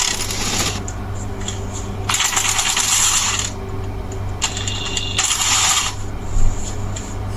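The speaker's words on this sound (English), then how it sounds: "So you can see we remove the nut of this battery cable." Nut being worked off a battery cable on a starter motor during a starter replacement: three short bursts of rapid metallic ratcheting clicks, separated by pauses, close up over a low steady hum.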